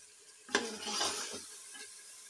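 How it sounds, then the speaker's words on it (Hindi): Meat being fried in a pan gives a brief scrape and stir followed by a soft sizzle, close and fairly quiet, lasting about two seconds. "ये गोश्त मैं साथ साथ भून रही हूँ"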